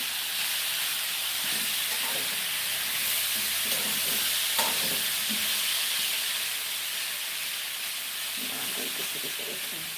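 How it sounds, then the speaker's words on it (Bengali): Shrimp fry in a hot pan with a steady, close sizzle and hiss, broken by occasional stirring clatter and faint background voices. "ছেঁড়া চিংড়িটি তাপের মধ্যে দিয়ে"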